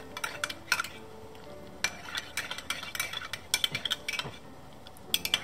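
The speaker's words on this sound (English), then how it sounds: "I'll use the spoon to stir it." A spoon stirs turmeric milk sweetened with honey in a white cup, giving light, irregular clinks and scrapes against the ceramic with short pauses between bursts.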